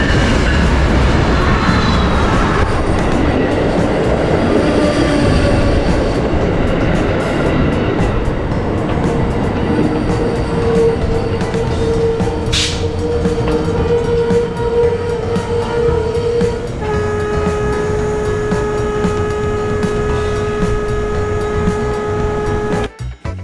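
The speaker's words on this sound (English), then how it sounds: "Genesis P-42 leading, ALC Siemens Charger trailing." An Amtrak train led by a Genesis P-42 locomotive with a Siemens Charger trailing rolls past in Florida, a loud sustained rumble and clatter of cars with steady tonal whines and squeal emerging later, no talk.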